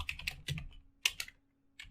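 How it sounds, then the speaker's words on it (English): Someone types on a computer keyboard while coding, a short close burst of crisp key clicks in an uneven rhythm with brief pauses, quiet and alone. "If I just type right here"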